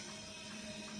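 Water hisses steadily from a sprayer onto vegetables, a continuous close wash with no voices, heard only briefly.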